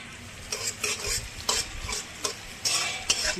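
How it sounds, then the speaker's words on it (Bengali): Onions frying in oil in a pan, a close sizzling bed punctuated by regular scraping strokes of a spatula, about eight distinct stirring bursts across the clip, with no talking. "পেঁয়াজটা লাল করে ভাজতে থাকি"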